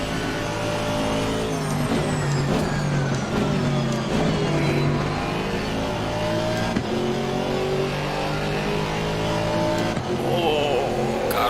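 GT4 race cars at Monza in a sim racing game, a continuous loud engine roar rising and falling through gear changes with whining pitch sweeps and other cars' engines around it.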